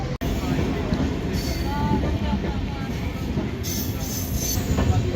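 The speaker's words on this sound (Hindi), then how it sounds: "ट्रेन आ गई है।" Train arriving at a railway station in Kurukshetra, India: a steady loud rumble of rolling carriages with faint wheel squeals, heard nearby with people talking.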